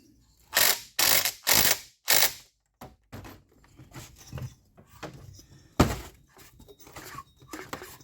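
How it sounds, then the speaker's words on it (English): Flywheel being tightened onto a Stihl 036 chainsaw during a rebuild: several loud, close ratchet-wrench bursts at the start, then scattered softer clicks, taps and a sharp metallic knock. "I think we just put the flywheel on. So we'll tighten that bad boy down."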